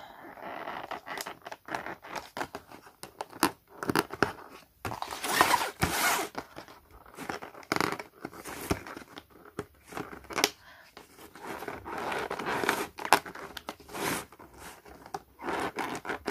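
A chocolate advent calendar being struggled with, a long run of close crinkling, tearing and scraping cardboard noises in irregular bursts with brief pauses between.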